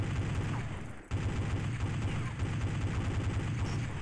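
Rapid gunfire from the Counter-Strike 1.6 game on Dreamcast, a dense steady stream of shots with a brief gap near the start, fairly quiet and continuous.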